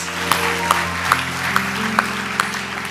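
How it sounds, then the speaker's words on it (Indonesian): Congregation clapping at a Christmas church service, a steady wash of applause broken by sharp, evenly spaced loud accents about every 0.4 seconds, with a hum of music or voices underneath. "Tepuk tangan buat Yesus."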